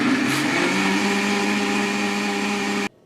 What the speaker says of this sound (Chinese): 然后把黄豆倒在一个料理机中，在里面加入249克的清水，盖上盖子，用力给它打成糊糊